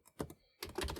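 Cursor keys on a 1982 Commodore B128-80 computer keyboard are pressed in quick bursts, giving a handful of close, crisp clicks separated by a brief pause.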